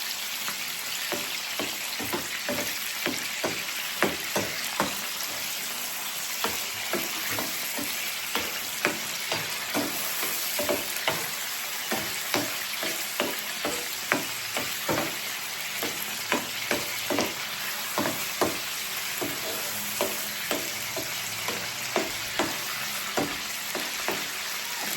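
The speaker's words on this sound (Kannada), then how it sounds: "ಇದು ನೋಡಿ ಚೆನ್ನಾಗಿ ಕುಕ್ ಆಗ್ತಾ ಇದೆ ಪ್ರಾನ್ಸ್." Prawns fry for restaurant-style Hakka noodles, a steady bright sizzle running throughout, with regular scraping knocks of a spatula stirring the pan at a near, moderate level and no talk.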